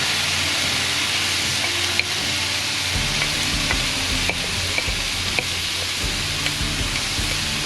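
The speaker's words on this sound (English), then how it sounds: "It's all for the sizzle." Vegetables sizzle and crackle loudly and steadily on a hot cast iron grill plate, a continuous frying hiss with occasional small pops and a low background hum.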